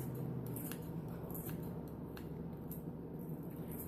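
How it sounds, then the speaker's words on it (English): Rapid snipping of scissors cutting through spring onions, a steady series of crisp clicks close by over a low background hum. "I just kind of take my scissors and cut them really small."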